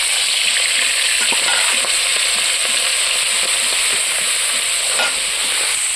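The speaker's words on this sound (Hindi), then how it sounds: "तेल पके देली, एबे चिंगुड़ी माछ छाड़ी देबा।" Prawns frying in hot oil in a kadai, a steady broadband sizzle throughout with occasional louder spits and crackles, close and continuous with no talking.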